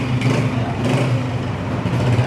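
A Honda 125 Dream motorcycle engine runs steadily at idle, a close, loud and even low putter with a constant hum and no change in pace.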